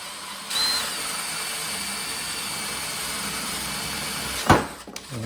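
A power drill whines steadily at close range while boring a mounting hole for an HO scale railroad crossing gate, ending with a brief sharp clatter near the end.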